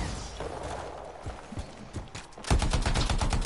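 Gunfire in the video game Anthem on PS4: scattered shots first, then a dense burst of rapid automatic fire in the final second, loud and close over game background noise.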